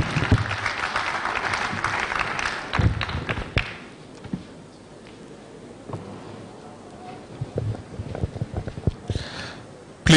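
A public lecture audience applauds a university Vice-Chancellor: dense clapping for a few seconds that thins out into scattered, uneven claps, with a faint murmur and a loud bump at the end.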